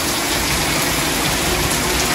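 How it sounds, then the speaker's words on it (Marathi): Heavy monsoon rain in a sudden windy downpour, a dense, steady hiss and roar close by that never lets up, with no voices. "पावसाने मधीनच हजेरीची लावली"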